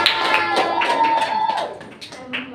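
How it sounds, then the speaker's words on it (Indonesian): Children and teacher clapping hands together in a classroom, a burst of rapid claps mixed with excited voices and singing-like calls over it, fairly loud and close. "tepuk tangan untuk kita"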